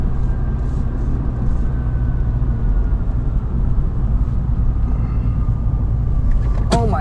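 A 2020 MINI JCW Hardtop taking a corner, its engine a loud, steady rumble heard close up for several seconds, with a short sharp noise near the end.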